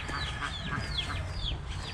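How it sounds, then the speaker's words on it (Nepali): A duck quacks in a village yard, a few short calls rising over faint background hum with no talking. "हाँस पनि रहेछ त यसको त।"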